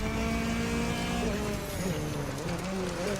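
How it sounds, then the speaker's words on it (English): A Mitsubishi rally car power-slides and drifts on dirt in the racing game The Crew 2, its engine droning steadily with shifting pitch and tire scrub, loud and continuous throughout. "Get back on the dirt and do some power slide drifting."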